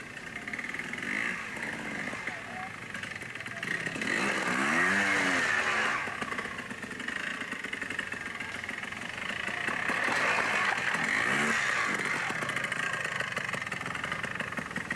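Trials motorcycle ridden over logs at a 1993 Access MC trials event at Dayton Dirt Riders, its engine revving and rising in bursts across a continuous, fairly loud mechanical drone, with no talk.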